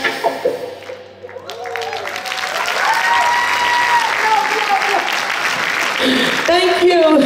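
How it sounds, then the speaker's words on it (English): An audience claps along with a sung performance; the clapping swells into a loud, sustained wave of many hands while a singing voice and music continue above it. "clap your hands, it's alright"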